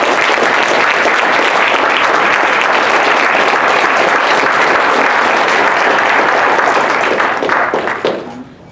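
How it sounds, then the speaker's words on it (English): Loud, full applause from a banquet audience at an awards dinner, a thick sustained roar of clapping that fades out near the end. "let's please give our sister, Sister Kamal Muhammad, a warm round of applause"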